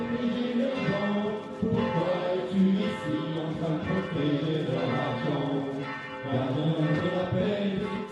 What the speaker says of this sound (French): Et la pasteur fera sonner les cloches tant qu'il y aura un arbre à sauver.